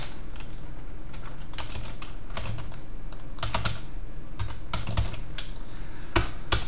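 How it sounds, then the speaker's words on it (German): Steady typing on a computer keyboard while writing code, a close run of quick, irregular key clicks with a few louder strokes and brief pauses, heard alone. "Vielleicht könnte ich auch nochmal Temperatur richtig schreiben."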